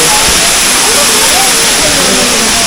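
A waterfall in Bali roars close and very loud in a dense, unbroken rush of falling water, with voices faintly audible beneath the noise.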